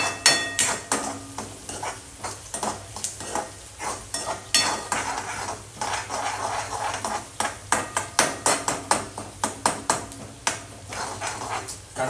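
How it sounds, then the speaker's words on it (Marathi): Chopped onion frying in a pan, a steady broadband sizzle under repeated sharp scrapes and clinks of a spatula against the metal, with no talking. "लालसर होईपर्यंत आपण जरा कांदा टाकून घेऊ."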